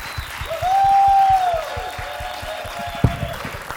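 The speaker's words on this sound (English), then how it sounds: "would you give a big round of applause to Power 92" An audience claps for the Power 92 radio staff at a tribute and family reunion event. Loose rhythmic clapping runs throughout, with a sustained whistle-like tone rising over it near the start and a single sharp knock late on.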